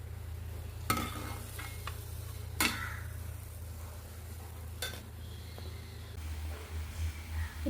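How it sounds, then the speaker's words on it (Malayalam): Kuzhiyappam batter made with cherupayar frying in a pan of oil, a steady close sizzle with a few sharp utensil clinks and scrapes against the pan. "ഇപ്പോൾ നമ്മുടെ കുഴിയപ്പത്തിൻ്റെ മാവ് മുഴുവനായും ചട്ടിയിലിട്ട് കഴിഞ്ഞു."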